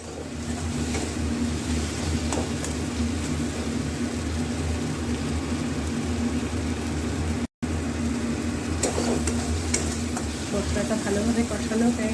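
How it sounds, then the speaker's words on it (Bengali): Spice paste fries in leftover oil from frying aubergine and flattened rice, giving a continuous low sizzle with occasional stirring scrapes over a faint background hum. "মশলাটা ভালো কষানো হয়ে গেছে, দেখো চারদিক দিয়ে ভালো তেল তেল ছেড়ে দিয়েছে।"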